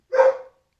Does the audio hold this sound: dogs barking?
yes